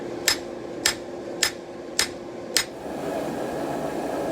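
Five sharp, evenly spaced hammer blows ring out while hand-forging the bevel of a Roman gladius blade, each a bright metallic strike over a steady fan-like hum that carries on alone after the strikes stop.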